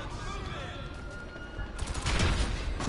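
Rocket blasts from a grenade launcher in GTA 5 play: a busy mix of game gunfire, then a louder, heavier burst of explosive booms toward the end, with chatter underneath.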